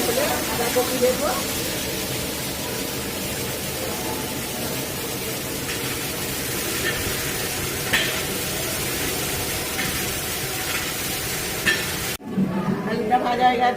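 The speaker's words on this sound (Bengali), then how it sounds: "আলুগুলো ভাজা হচ্ছে, ভাজা হলে বাঁধাকপি দেবো।" Potatoes fry and sizzle in hot oil with bay leaf in a home kitchen for a cabbage curry, a steady crackling hiss with occasional stirring scrapes, then a brief cut and a short quieter stretch near the end.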